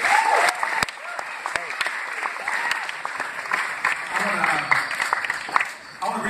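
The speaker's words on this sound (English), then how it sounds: "could you clap your hands for the word of God tonight?" A congregation claps at an evening church service, sharp hand claps and cheering crowd noise mixed with voices calling out and talking over the applause.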